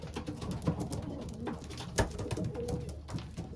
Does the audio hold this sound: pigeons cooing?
yes